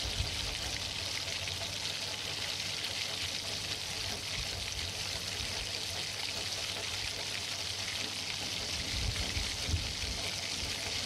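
Water is poured in a thin, steady stream into kadai paneer masala cooking in a pan, giving a continuous soft splashing trickle at moderate, even volume with no talking.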